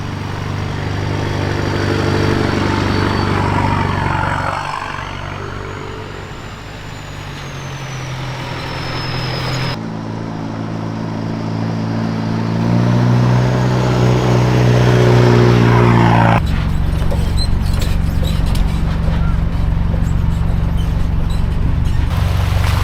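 A 4WD vehicle drives off-road on a day trip, its engine droning loud and steady throughout with a rising rev midway and rough rattling at the end; no talking.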